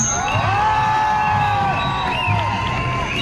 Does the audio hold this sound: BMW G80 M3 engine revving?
no